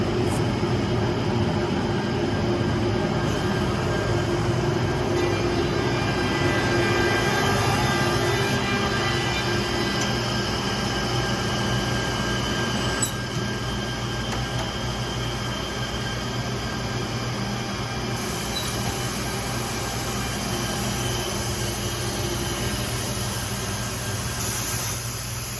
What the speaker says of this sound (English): Just activates the corner rounder on the next panel we run. We're going to go ahead and run that side now.